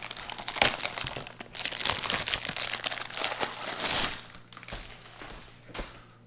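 Clear plastic packaging from a French RCIR 24-hour ration is pulled open, giving close, busy crinkling and crackling for several seconds in uneven bursts, with no voices.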